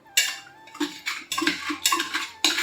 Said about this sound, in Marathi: इकडे आता कुकरचं पण सफाई चालू आहे